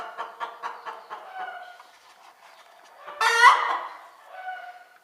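A turkey hen clucks in a rapid run of short calls, then lets out a louder, higher squawk, then settles back into softer clucking, close to the microphone.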